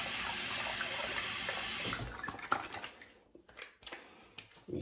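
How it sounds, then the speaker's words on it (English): A running tap splashes steadily into a sink while someone rinses off after a shave, loud at first, then cut off into scattered drips, splashes and handling noises, with a brief rush of water again at the end. "I'm gonna rinse off."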